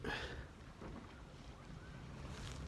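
A boat moves across open water, with steady wind buffeting the microphone and a low wash of water throughout.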